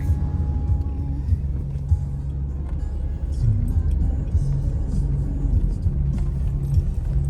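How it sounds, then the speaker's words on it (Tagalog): Steady road traffic near Tagaytay, cars rolling past with a loud, continuous low rumble of engines and tyres, no clear gaps between vehicles. "Traffic."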